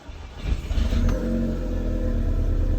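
A Volkswagen GTI engine labors to turn over and then catches, revving up into a loud, steady mid-range rumble that holds close and constant to the end.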